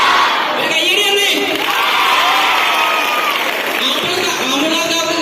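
Schoolchildren clapping, cheering and shouting for a class candidate at a school chairman election, a loud close crowd of young voices and hand claps running continuously, with shouted words mixed in.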